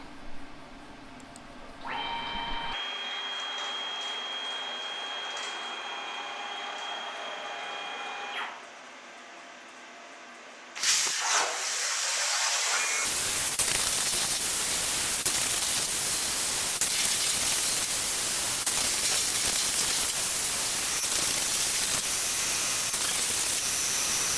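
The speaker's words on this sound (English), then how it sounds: "Alright, so compressor's going, torch is on. Okay, let's fire this up." A CNC plasma torch cuts checker plate with a harsh, loud broadband hiss that surges after a brief gap, preceded by a steady air compressor hum and a tonal whine.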